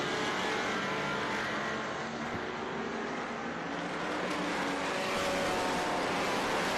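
Race cars including a Corvette at Watkins Glen, a loud continuous engine roar as cars pass and accelerate down the straight, mixed track noise with no talking.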